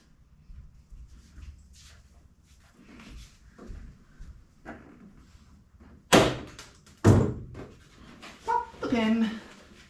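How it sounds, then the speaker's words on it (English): Doors come off a Toyota truck cab with two sharp metallic bangs and some rattling, close by, while people talk and a dog pants nearby. "Why am I taking the doors off? Because I'm trying to get some weight off this cab."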